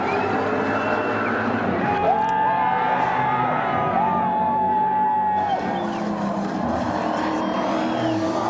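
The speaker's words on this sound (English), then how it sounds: "just listen to the crowd" Crowd noise at the 1993 Bathurst 1000 at Mount Panorama, a broad steady roar of spectators blended with nearby race car engine drone and passing cars, with no commentary over it.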